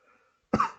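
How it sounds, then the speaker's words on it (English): A man gives a single short, sharp cough after a brief faint murmur, close and alone in a quiet room. "Always coughing."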